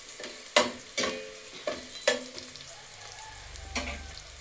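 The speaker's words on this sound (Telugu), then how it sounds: "ఎప్పుడైనా ఉల్లిపాయ పచ్చి వాసన లేకుండా ఫ్రై చేసుకోవాలి" Onions frying in a pan for tomato rice, with several sharp stirring scrapes and clacks spaced about half a second apart over a soft, steady sizzle, close up with no talking.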